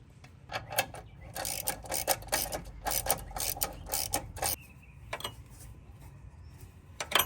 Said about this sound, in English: don't forget to torque down your jam nut